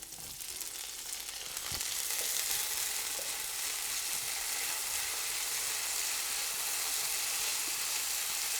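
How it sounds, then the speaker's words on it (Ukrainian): Onions and mushrooms frying in a pan, a continuous soft sizzle that swells slightly after the start and holds steady, with one brief knock early on. "Цибулька підсмажується до прозорості. Так, ну і додаємо грибочки."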